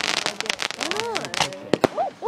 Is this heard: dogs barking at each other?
no